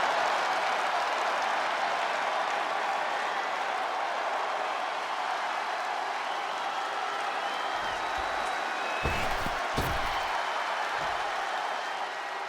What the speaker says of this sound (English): The crowd is on their feet for the Empress of Tomorrow